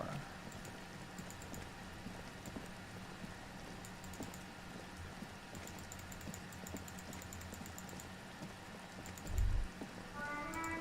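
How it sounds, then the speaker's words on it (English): Steady rain falling over a city in the video game Disco Elysium, a soft continuous patter with faint dripping and a brief low thump near the end, no voices. "All around you, rain falls on the great city of Revachol."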